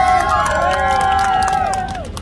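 A Times Square crowd in New York cheers and whoops loudly and continuously for about two seconds, a dense wall of voices that eases slightly at the end.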